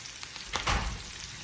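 Potatoes fry in butter in a skillet with a soft, steady sizzle, broken by a brief louder crackle and stir around the middle, close and alone without talk.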